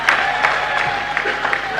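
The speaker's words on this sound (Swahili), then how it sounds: "Tuwapigie makofi mengi sana." An audience at an official event at Benjamin Mkapa zonal hospital claps in a brief burst, with crowd noise and a voice heard over the applause.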